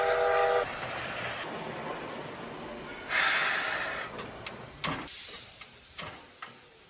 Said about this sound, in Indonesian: melintaslah kereta uap yang langsung menolong mereka bertiga